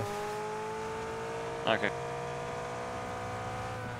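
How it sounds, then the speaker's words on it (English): A car drives nearby in the PUBG video game, its engine a steady, low drone in the background. Game sounds and a brief spoken word sit on top of it. "I hear a car over here."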